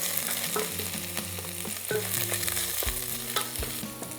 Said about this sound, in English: we'll give this another little stir